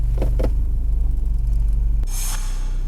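A BMW 528i with about 140,000 km, idling in park, gives a heavy low rumble that keeps shaking steadily, then shifts into drive with a sharp clunk and a hissy rattle as the vibration carries on.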